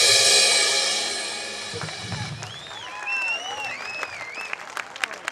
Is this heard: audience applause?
yes